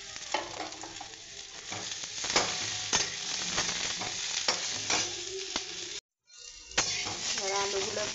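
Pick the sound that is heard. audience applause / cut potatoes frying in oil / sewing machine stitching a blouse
cut potatoes frying in oil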